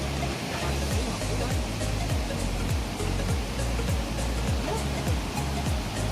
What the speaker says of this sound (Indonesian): Jadi suara airnya udah kedengeran.